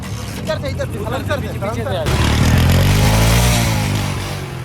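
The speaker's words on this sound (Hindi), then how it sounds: "इंजन का क्या कंडीशन है? सील्ड है बिल्कुल। साउंड देखो।" A used motorcycle engine at a second-hand bike market runs steadily nearby, then revs louder with rising pitch, its rumble filling the space.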